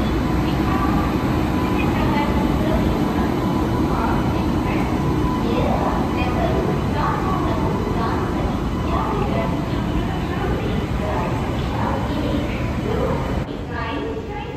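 Loud, constant rumble and hiss fill a railway station platform as a train runs alongside, with faint indistinct chatter and footsteps mixed into the steady noise and a sudden drop in level near the end.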